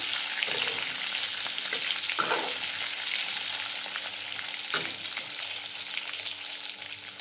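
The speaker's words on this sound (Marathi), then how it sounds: "आता तेलामध्ये वांगे सोडायचे आहे. ते व्यवस्थित परतून घ्यायचे आहेत आपल्याला तेलामध्ये." Eggplants frying in hot oil, a steady close sizzle with occasional stirring taps and scrapes as the pieces are turned in the pan.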